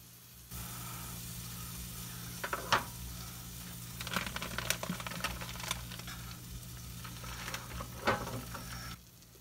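A Reuben-style sandwich on buttered bread fries in a pan after being flipped, giving a steady close sizzle with occasional crackles and scraping stirs.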